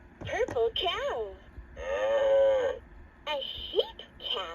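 A LeapFrog Fridge Farm magnetic toy (2007 version) plays a long, drawn-out cow moo, with a synthesized voice speaking before and after it.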